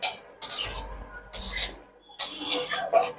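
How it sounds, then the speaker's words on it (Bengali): Lentil dumplings (bori) dropped into hot mustard oil in a wok, giving four sharp bursts of loud sizzling spatter, each flaring up and fading before the next batch goes in. "তেল গরম হয়ে গেছে, আমি বড়িগুলো দিয়ে দিচ্ছি।"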